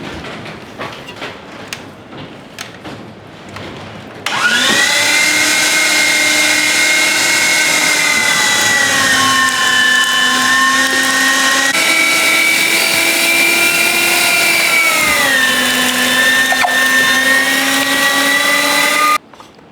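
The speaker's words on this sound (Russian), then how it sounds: "курдюк можно перемолоть вот на такой крупной сетке." Meat grinder mincing lamb fat tail through a coarse plate: a loud, steady motor whine starts abruptly after a few seconds of quiet clatter, its pitch dipping slightly under load, then cuts off near the end.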